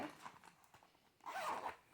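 A pencil case zipper being pulled open, a few soft rasping bursts early on, then a longer, louder zip near the end, close and clear with no talk.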